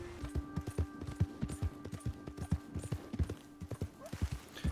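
Horse hooves clip-clop in a steady rapid rhythm in the video game Red Dead Redemption 2, close and fairly loud, with a faint tonal hum of the game's ambience underneath and an occasional soft snort.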